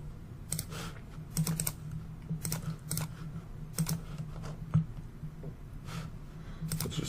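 Fingers type a login name and password on a computer keyboard, a close run of quick uneven key clicks in short bursts with brief pauses, over a faint low hum.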